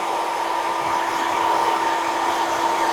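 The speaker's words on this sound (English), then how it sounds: "I'm just blasting this dry." A hair dryer on high power blow-dries long hair, a loud, steady close-up blast of airflow with a constant motor whine and no talking.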